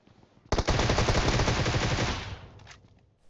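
Close-range Groza and M4 gunfire in the mobile shooter game PUBG Mobile: a sudden loud burst of rapid automatic fire lasting about two seconds, the shots blurring together before fading out.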